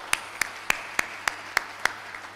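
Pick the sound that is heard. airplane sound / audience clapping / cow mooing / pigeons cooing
audience clapping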